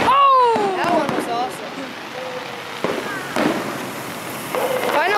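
Fourth of July fireworks burst in a few separate booms and crackles, with whistling rockets and excited voices talking and exclaiming between the blasts.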